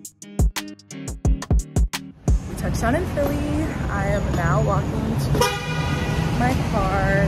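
Short blasts of a horn sound sharply several times in a row at the start, followed by steady street noise with a person talking over it, somewhere in Philadelphia.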